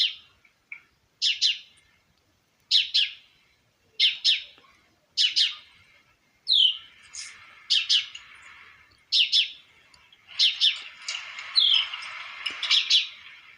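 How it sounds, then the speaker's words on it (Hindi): Small birds chirp in quick bursts of bright, high tweets, repeating every second or so and growing busier toward the end, clear against a quiet background. "चिड़ियों की आवाज़ आ रही हो।"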